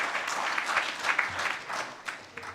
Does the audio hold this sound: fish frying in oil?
no